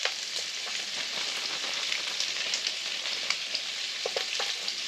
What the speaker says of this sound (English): let's put these onions in here.